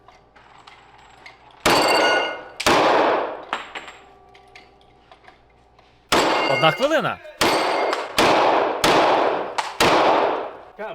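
Loud, sharp gunshots ring out at a clay-target shooting range, several spaced blasts with metallic clangs and echoing tails; a voice speaks briefly between shots.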